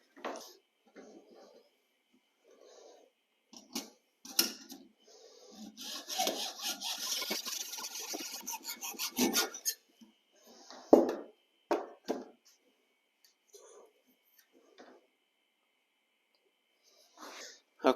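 Bathroom flooring being cut at an angle, a rough rasping saw stroke lasting several seconds at close range, set between short knocks and stretches of talking.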